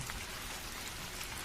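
Rain falling at night as a cartoon sound effect, a dense, even hiss of heavy rainfall, soft and continuous throughout.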